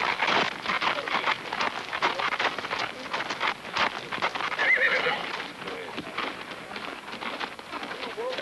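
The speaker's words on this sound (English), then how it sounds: "Marvelous horse, George." A horse of mixed Arab and English breeding neighs and whinnies with hooves clip-clopping nearby, fairly loud, over steady background noise and faint rain, with voices talking at times.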